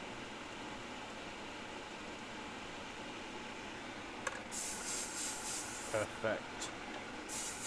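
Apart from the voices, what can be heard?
airbrush spraying paint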